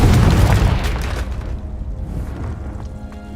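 A Confringo blasting spell explodes in the Hogwarts Legacy video game: one loud, deep boom that bursts at the start and then rumbles away over a few seconds, with no talk.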